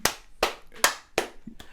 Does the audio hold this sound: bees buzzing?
no